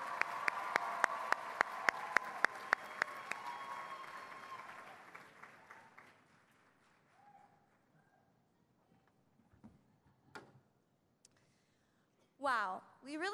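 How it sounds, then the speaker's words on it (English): Convention audience applauds a winner at a Key Club International recognition session, loud dense clapping for several seconds that fades out, followed by quieter hall noise and brief voices. "Let's give another round of applause for our winner"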